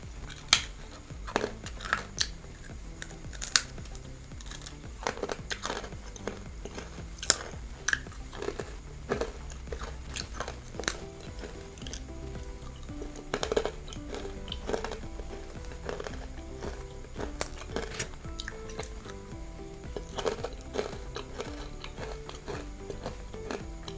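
Crispy baked vegetable chips, including carrot and beetroot or cucumber, crunched close to the mouth in repeated sharp bites and chewing across the whole stretch, with no talking.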